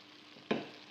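Garlic for a one-pot pumpkin risotto hitting hot fat in a pot: a single soft burst of sizzle that settles into a low, steady frying hiss, close and without talk.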